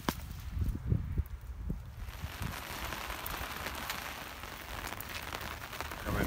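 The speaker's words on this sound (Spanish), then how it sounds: "Comenzando a caer agua nieve." Steady hissing patter of sleet falling in wind and rain on a walking trail in February, with a few thumps and footstep-like knocks early on, continuous and moderately close.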